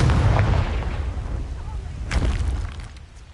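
Confringo blasting curse detonating in Hogwarts Legacy, a sharp booming burst near the end over a rumbling battle bed, loud and close.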